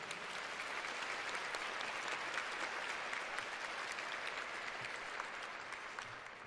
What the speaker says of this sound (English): Let's give it a round of applause for our flag.